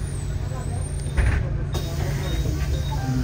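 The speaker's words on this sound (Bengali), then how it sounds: "বাসটা সামনে যাক, বাস বন্ধ হলো, সামনে যাচ্ছে" A Bucharest city bus idles and rumbles close by, with a hiss of air brakes partway through as it stops and pulls on; people talk over the engine.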